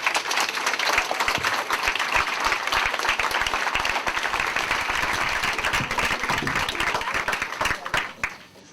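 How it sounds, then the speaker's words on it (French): Warm, dense audience applause welcoming guest Enki Bilal at a public film talk, a loud, even wash of clapping for several seconds that tapers off toward the end. "demande d'accueillir avec un tollé d'applaudissements, avec beaucoup de chaleur, Monsieur Enki Bilal."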